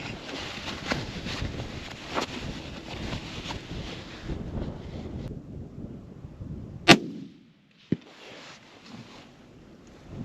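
A rifle shot at a target 270 yards away cracks loud and sharp once outdoors, followed by a fainter impact, amid wind noise and rustling before the shot.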